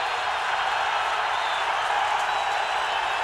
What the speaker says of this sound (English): this crowd very much into it